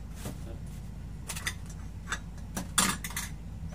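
Light clinks and taps of small bowls and utensils being handled close by, scattered irregularly over a quiet background.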